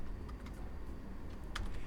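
Quiet clicking keystrokes on a computer keyboard tap sparsely over a loud steady low hum, with one sharper click standing out near the end.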